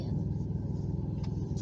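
Car pulling away on a breakfast run, a steady low engine rumble and road noise running throughout, close and continuous, with faint voices underneath.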